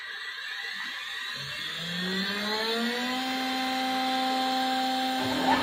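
A DIY CNC machine's X axis starts moving, its stepper drive whining in a tonal hum that ramps upward in pitch over the first few seconds, then holds a steady, moderately quiet pitch.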